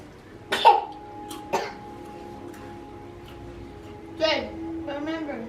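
A woman coughs twice in quick succession at home, then another short, throaty cough follows a few seconds later, close and clear, with a faint hum underneath and a voice nearby.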